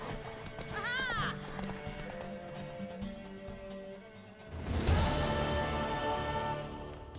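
Hooves clip-clop at a running pace during a horse race in The Witcher 3: Wild Hunt, under music and a voice, with a horse's whinny early on and a louder burst near the middle.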